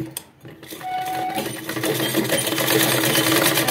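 A sewing machine starts up and runs in a fast, continuous rattling stitch while sewing a Patiala salwar, steady and close with no talking.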